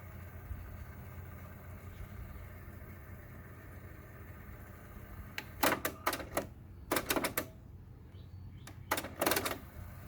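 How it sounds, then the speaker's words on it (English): A cassette tape deck on a Panasonic music system runs in fast forward, a steady low mechanical whir broken by several bursts of sharp clicking and clacking from the transport near the end. "All right, it's fast forwarding."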